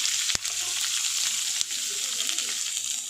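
Onions sizzle and fry in hot oil for a chickpea tempering for sambar, a steady bright crackle with two brief clattering knocks near the start and no talking.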